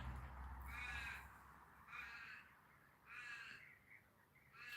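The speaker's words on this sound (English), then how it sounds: "That's a crow. It's protecting its territory because there's a food source around" A crow caws three or four times in spaced, harsh calls while guarding its territory near a food source, heard faint and somewhat distant over quiet background noise.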